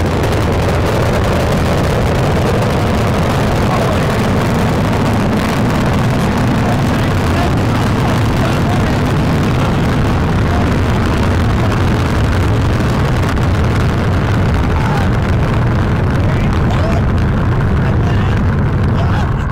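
SpaceX Super Heavy booster engines ignite at launch, a loud, dense, continuous roar that fills the whole stretch without a break as excited voices sound underneath.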